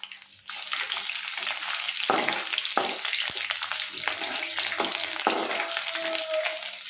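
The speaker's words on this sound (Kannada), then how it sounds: "ಇದು ಸ್ವಲ್ಪ ಕಲರ್ ಚೇಂಜ್ ಆಗೋವರೆಗೂ ಫ್ರೈ ಮಾಡ್ಕೊಳ್ಳೋಣ." Curry leaves and garlic crackle in hot oil in a pan, a steady close sizzle with sharp spits and pops scattered throughout.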